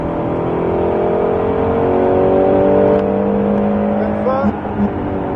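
A Mustang Shelby GT500 engine revs hard on a track and climbs in pitch as it accelerates at full throttle, loud and close, with a brief shift near the end.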